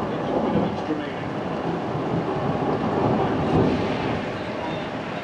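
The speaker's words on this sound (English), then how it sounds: "Storm's moving away." A thunderstorm that is moving away gives a deep, continuous rumble of distant thunder that swells and fades, along with a wash of rain noise and no clear voices.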